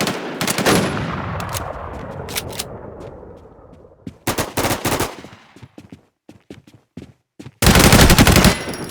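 Machine gun fire in the online zombie shooter WarZ, with loud rapid bursts that fade into echoing tails, sharp scattered single shots, and a final dense close burst at the end.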